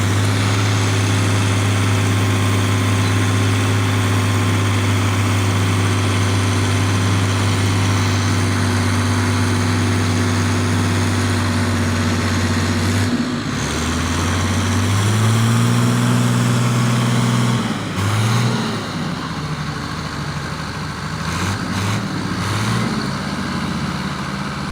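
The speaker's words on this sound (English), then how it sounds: "Kirovets 1050 Vario tractors, each a formidable machine, fight together to escape a massive mud pit." Kirovets 1050 Vario tractors churn in a massive mud pit, their engines droning loud and steady at first, then lurching and shifting pitch as they strain to pull free.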